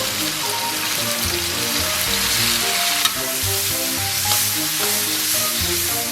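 Soy sauce sizzles loudly in a hot wok with diced pork, ginger, scallions and soybean paste. The frying hiss is dense and continuous, and a few soft stirring knocks sound close by.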